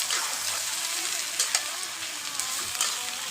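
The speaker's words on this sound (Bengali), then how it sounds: "হলুদ দিব, নেড়ে ছেড়ে মিশিয়ে নিব" Bombai chili pickle being stirred and mixed with turmeric, a steady wet, sizzling-like hiss with a few soft clicks and scrapes, close and continuous with no talk.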